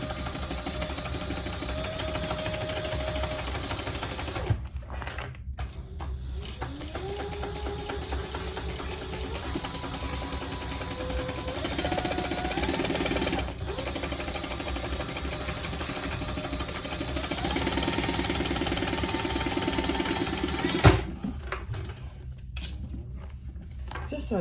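A sewing machine bastes a sling, a steady mechanical hum running in long stretches broken by brief pauses and clicks, with a voice speaking over it.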